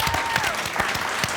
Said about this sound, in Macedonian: Аплауз за Јован!